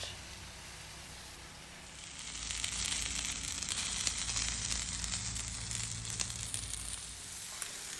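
Cheese crisps on a hot Blackstone griddle beside sausage-stuffed zucchini, making a continuous close sizzle that swells after a quieter start and carries on without talk.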